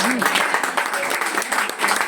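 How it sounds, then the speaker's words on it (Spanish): Applause for Milena on her birthday, a steady patter of many hands clapping with a voice or two talking over it briefly. "un aplauso para Milena"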